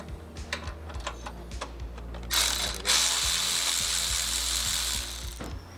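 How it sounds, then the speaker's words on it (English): A hand ratchet loosens the battery bracket on a Honda Fit, giving a run of quick metallic clicks followed by a louder rasping burst of turning, close and alone. "What we're doing is loosening the battery bracket"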